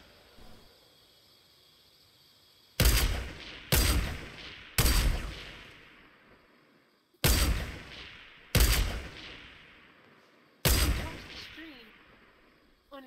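Six loud sniper rifle shots ring out in a video game, each a sharp crack with a long decaying tail, spaced irregularly over a quiet background.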